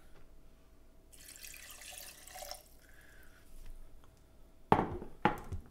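A cup of water poured into a nut milk maker: a soft, splashy rush of about a second and a half, then quiet, then two sharp knocks near the end.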